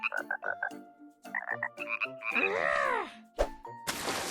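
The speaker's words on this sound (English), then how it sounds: "I found a bunch of frogs." A burst of frog croaks at a pond in quick pulses, then a longer warbling call and a sudden splashy hiss at the end.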